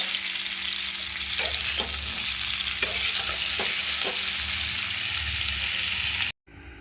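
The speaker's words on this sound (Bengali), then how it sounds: "কড়াইতে সামান্য কাঁচা লঙ্কা আর আদা বাটা, মানে আদা গ্রেট করেছিলাম, ওটা দিয়ে ভালো করে কষিয়ে নিব" Green chilli and grated ginger paste frying in a wok for a cauliflower and fish curry, a continuous close sizzle with intermittent spatula scrapes and taps, ending in a brief gap.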